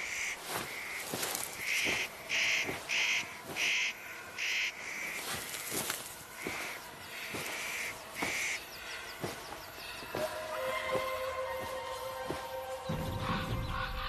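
Birds in mountain trees screech alarm calls at intruders, a run of harsh repeated cries at mid distance over a steady insect-like hum.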